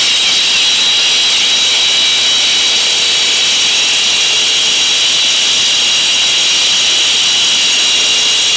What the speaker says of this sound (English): So I'm just gonna cut just this flange off and we should be good.